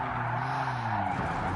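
Car driving hard and braking in Gran Turismo Sport on PS4 Pro, a steady engine drone with tire squeal and skidding as the car slows, loud and close with no talk.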